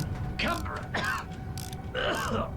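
Tank being repaired in Battlefield 1, with creaking, ratcheting mechanical groans and metallic gear sounds in repeated bursts, close and moderately loud.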